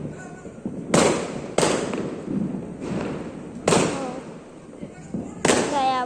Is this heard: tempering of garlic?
no